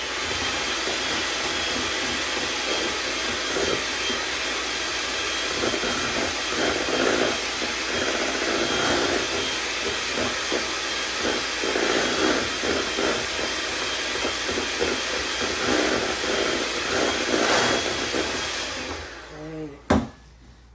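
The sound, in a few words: electric mixer mixing batter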